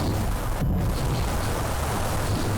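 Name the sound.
weapon fire and explosions on targets in a video game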